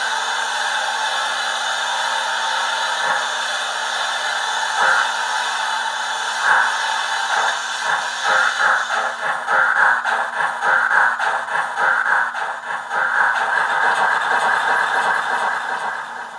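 A Roco model locomotive's small electric motor and tender gears run with a steady high whine and rhythmic clicking from the track, close and continuous with no talk.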